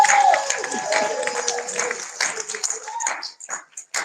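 A poetry slam audience claps and cheers loudly at first, then the applause thins out into scattered claps, with voices talking over it.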